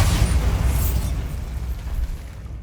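An explosion spell goes off in the fantasy game Hogwarts Legacy, a loud booming blast with rumbling debris that slowly fades over a couple of seconds.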